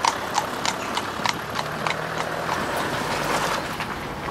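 Hooves of a horse in driving trials training clip-clop steadily in an irregular, slightly uneven rhythm, close and fairly loud over outdoor wind noise, with no voices.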